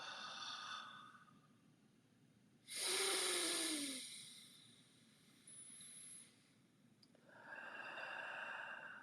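Slow, deep breaths alternate, a quiet inhale followed by a long, loud, close exhale with a hissing, sighing quality, then another soft inhale, with no talking.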